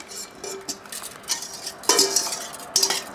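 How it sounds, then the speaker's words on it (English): Mango mousse scraped and poured into a small stainless steel bowl, with repeated metallic clinks and scrapes of a utensil against metal, close and fairly loud in a quiet kitchen. "I get a smaller metal bowl that I have and just transfer that"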